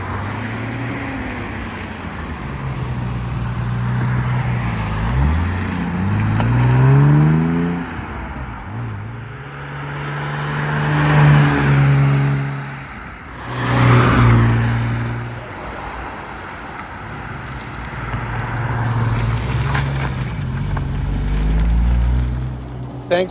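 A 1967 Mercedes-Benz 230SL Pagoda drives past several times on a farm road, its engine rising and falling in pitch as it approaches, revs and fades away outdoors.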